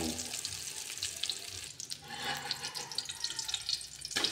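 Banana heart fries in a pan with a broad, wet sizzle and bubbling hiss, dipping briefly then resuming, with small pops scattered on top, close and moderately quiet.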